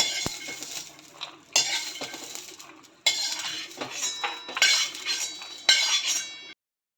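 Roasted peanuts scraped from a pan into a mixer jar, with a run of metallic clinks, rattles and scraping spoon strokes coming in close bursts, each burst ending abruptly.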